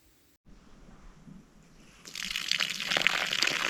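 Water from a newly installed outdoor tap at a rural Zimbabwe homestead, with weak pressure, starts as a faint trickle and then swells into a steady gushing flow, close and alone with no talk.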